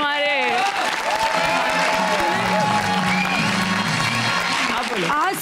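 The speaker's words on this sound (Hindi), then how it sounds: "तालियां, ढेर सारी तालियां हमारे।" A studio audience at an Eid television show bursts into sustained applause with whoops and cheering, loud and continuous, with voices mixed into the clapping.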